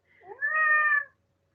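One clear, drawn-out cat meow rises and holds for about a second, close and fairly soft, alone against silence.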